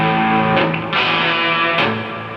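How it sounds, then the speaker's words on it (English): Sustained electric guitar chords ringing out with a wet, spacious reverb and echoing repeats that trail after each strum. "Let's put some reverb and some delay to it."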